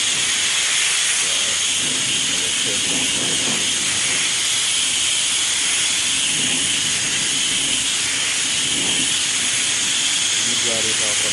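A constant loud blast of air blows a freshly sprayed coat of smoke tint dry on a car taillight, a steady hiss that never lets up, with faint voices underneath.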